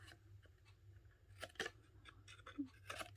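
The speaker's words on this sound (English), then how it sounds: "Go ahead and hit snips." A few quiet snips of scissors cutting masking paper, small crisp cuts scattered over a few seconds against a low hum.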